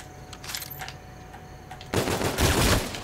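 Slow-firing gun in a Zombies video game on the Rave in the Redwoods map, with a few spaced shots followed by a louder, denser burst of firing near the end.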